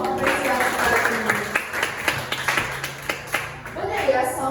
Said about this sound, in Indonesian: Mohon diberi tepuk tangannya dong untuk apresiasi kali ini.